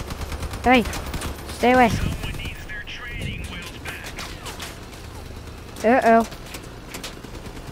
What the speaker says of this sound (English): Who's shooting at us?